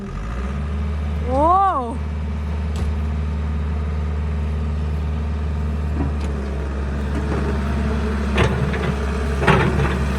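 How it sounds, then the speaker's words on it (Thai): A car engine idles steadily with a low drone throughout, a brief revving swell near the start and a few knocks or clunks later, while someone speaks briefly over it. "ต้องเร่งเครื่องค่ะ"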